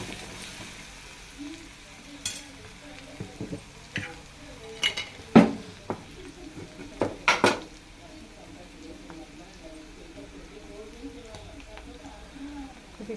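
Curry being stirred in a pan on the stove: a soft sizzle runs underneath, with scattered scrapes and clinks of a spoon against the pan, while someone talks.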